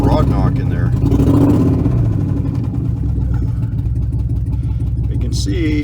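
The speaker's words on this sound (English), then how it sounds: "You can see cylinder 6, 7, and 8 are misfiring." A truck engine with a wiped-out cam, misfiring on cylinders 6, 7 and 8, runs loudly and close with a rough, uneven low rumble and a stumbling beat throughout, while a person talks over it.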